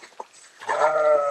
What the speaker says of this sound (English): there's that one sheep sitting in the rain,